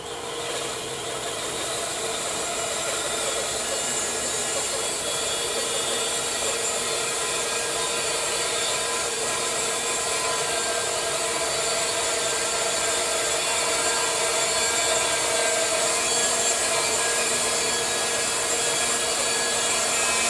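A heavy-duty 4-horsepower bandsaw cuts a white pine log into lumber, producing a loud, steady, continuous whine and rasping drone that holds unbroken throughout, with no voices.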